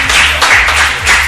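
Audience applause comes in a brief loud patter of many hands clapping, swelling in a few waves over a short span.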